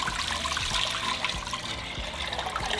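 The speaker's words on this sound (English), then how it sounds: "We're going to add 10 cups of water." Water pours from a tap into a small cooking pot, a continuous close splashing gush with low gurgling thumps, steady throughout and without speech.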